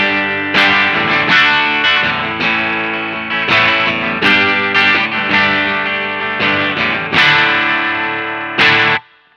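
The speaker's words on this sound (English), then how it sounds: "when you really dig in on the guitar you're going to hear just a little bit of distortion" A Telecaster electric guitar plays through a clean amp channel pushed to slight distortion. Loud strummed chords ring out and sustain, with a dozen or so attacks over nine seconds, ending in an abrupt cutoff and no talking.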